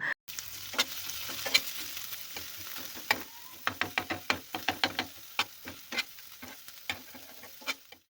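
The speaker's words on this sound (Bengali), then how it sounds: "এখন আবারও আমি দিয়ে দিচ্ছি সাদা তেল আর তার মধ্যে দিয়ে দিচ্ছি কুচানো পেঁয়াজ আর কুচানো কাঁচা লঙ্কা" Chopped onion and green chilli sizzle in hot white oil in a pan, a steady close fry broken by sharp clicks and taps of a spatula stirring.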